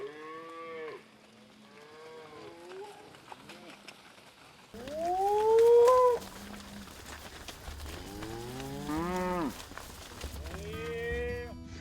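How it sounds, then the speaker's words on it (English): Cattle moo repeatedly out in a field during a cattle drive, several animals calling one after another in long, drawn-out bellows, some near and loud, others quieter. "Just finished the cattle drive."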